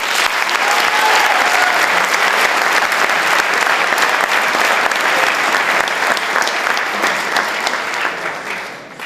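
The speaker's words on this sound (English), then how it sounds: "I'd like to ask for a round of applause to our parents and families" A large audience at a graduation ceremony gives sustained, dense applause for the parents and families, loud and steady throughout before tapering slightly at the end.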